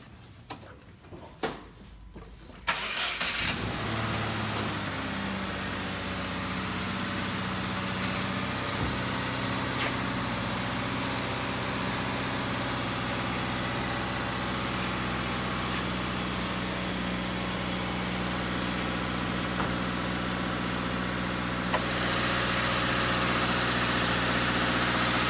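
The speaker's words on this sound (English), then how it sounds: "We're going to go ahead and start the engine up and give you a look out under the hood." A 2017 Subaru Crosstrek with a 2.0-liter four-cylinder engine cranks briefly after a few clicks, catches and settles into a steady, even idle that holds for over twenty seconds, with a slight rise in level near the end.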